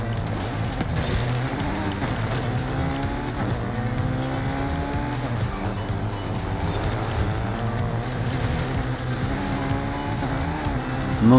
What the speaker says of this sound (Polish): No naprawdę, fura leci tak szybko, że to jest straszne aż.